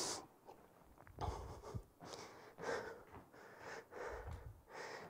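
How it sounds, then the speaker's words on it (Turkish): Quiet, deep breaths in and out during a rest break between leg exercises, heard close and faint, each inhale and exhale a soft rushing puff in an irregular rhythm of about six breaths over several seconds. "Derin nefes al, ver."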